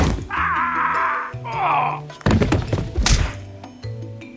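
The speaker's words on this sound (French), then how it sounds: "Le meuble t'est tombé dessus?" A heavy wooden piece of furniture topples onto a person indoors, landing with a loud, close thunk and clatter that is followed by a second burst of knocking debris, over a busy cartoon-style soundtrack and brief vocal groans.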